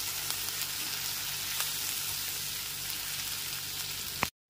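Ginger paste fries in oil over a low gas flame for paneer butter masala, a soft, even sizzle with occasional faint ticks, close and without voices, ending abruptly.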